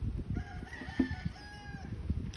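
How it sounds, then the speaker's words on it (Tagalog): Loose chickens on a farm, with a rooster crowing in a drawn-out call over scattered clucking from the flock, heard at moderate distance and fairly faint. "Marami silang chicken."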